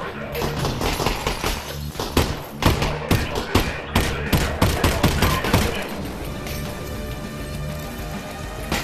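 Gunfire in the VR shooter Half-Life: Alyx comes as a dense burst of rapid, loud shots with sharp cracks and thuds, then fades into softer game ambience near the end.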